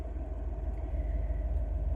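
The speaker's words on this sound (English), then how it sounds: "I'm currently driving" A van drives along, a steady low road rumble and engine drone holding continuously underneath, moderately loud and close, with no talking.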